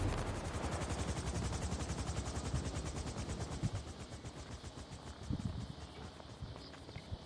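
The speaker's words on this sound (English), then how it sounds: "everybody stop shooting fireworks" Fireworks are set off in GTA 5 Online, a dense stream of rapid crackling pops and bursts that keeps going throughout and slowly thins out toward the end.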